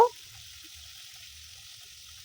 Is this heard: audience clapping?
no